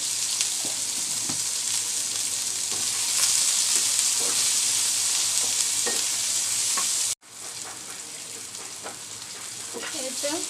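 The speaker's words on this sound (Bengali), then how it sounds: "বেগুনগুলো ভাজা হয়ে গেল" Eggplant pieces sprinkled with turmeric powder sizzle steadily as they fry in a pan, with scraping stirs throughout. A brief break interrupts the sound before the frying resumes slightly quieter.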